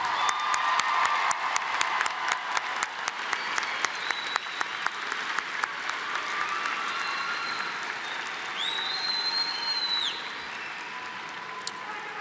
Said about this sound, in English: Please join me in another round of applause for our graduates.